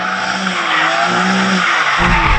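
A BMW M3 Competition slides around with tires skidding and squealing continuously, loud and close, while the engine drones underneath throughout.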